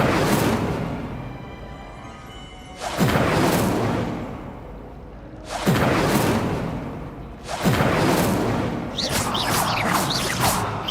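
Incendio fire spells are cast over and over in the video game Hogwarts Legacy, making loud whooshing, booming bursts roughly every two to three seconds above a steady rumble of game sound.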